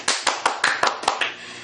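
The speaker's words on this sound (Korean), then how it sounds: "박수." A small group claps in a steady rhythm, about seven crisp, close hand claps in quick succession, ahead of a folk song at a drinking gathering with makgeolli.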